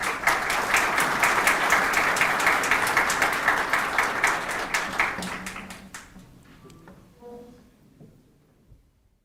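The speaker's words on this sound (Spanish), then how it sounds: "un aplauso para el padre Gerardo." An audience at Uniminuto claps for a visiting priest, loud and dense at first, then thinning and fading out after about six seconds into near quiet with a few faint sounds.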